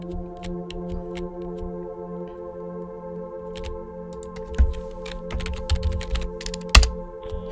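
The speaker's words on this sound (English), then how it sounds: "I'm gonna type freedom." Keys tapped on a keyboard in the horror video game Fingerbones, a run of soft clicks over a steady droning hum, growing denser and louder toward the end, with no talk.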